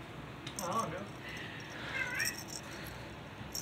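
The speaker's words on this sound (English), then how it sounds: "This is my auntie's cat." Kitten meowing softly twice, a high thin cry close by over a low background hum.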